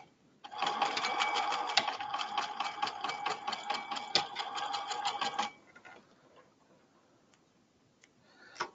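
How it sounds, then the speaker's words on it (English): A sewing machine runs a zigzag stitch along a seam of a men's ballet shirt, a fast, even mechanical rattle lasting about five seconds, close and loud, then stopping into quiet handling noises. "I'm just skipping that and zigzagging it"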